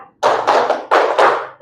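A class of students clapping in unison, with four sharp, loud rounds of claps in a steady rhythm, each round a short burst of many hands together.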